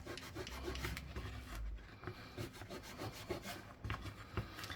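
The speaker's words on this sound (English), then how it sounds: "This is just quad zero steel wool. It doesn't scratch it." Steel wool of 0000 grade rubbed over a Finnish 1 Markka silver coin, giving a close, steady scratchy scrubbing with short repeated strokes and no talking.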